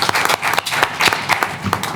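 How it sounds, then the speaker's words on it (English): A crowd at a school board meeting applauds steadily, a dense patter of many hands clapping together for a couple of seconds. "I think that deserves a round of applause."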